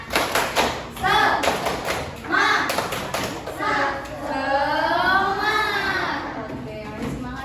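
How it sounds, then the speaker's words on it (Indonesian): Children in a primary school science lesson on light perform a rhythmic spirit clap, giving sharp patterned claps and thumps mixed with their group chanting, followed by a long sung or drawn-out call from the children. "Tepuk semangat"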